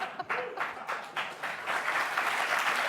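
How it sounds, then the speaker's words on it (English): A studio audience at a late-night comedy talk show applauds, scattered claps at first swelling into full, steady applause over a few seconds, loud and close, with no talking. "Sipping the applause."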